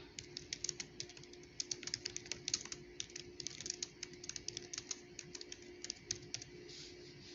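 Rapid, uneven keystrokes on a computer keyboard clatter steadily at close range, with short bursts and brief pauses, over a faint constant hum and no talking.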